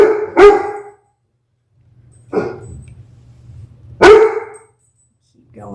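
A dog barks sharply twice, a few seconds apart, with a softer yelp between them, close and loud against a quiet room.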